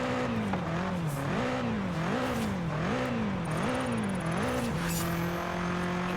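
A V8 twin-turbo engine in Forza Horizon 5 revs up and down in a repeating rising-and-falling pattern, then settles into a steady drone, loud and close with no talking.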